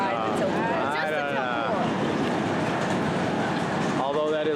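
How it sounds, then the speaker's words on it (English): A carnival train ride called the Magical Express rolls past at a fair in the Wisconsin Dells, a steady near rumble with clacking and whistle-like tones, while people talk over it throughout. "Look at that fancy train. It's called the Magical Express."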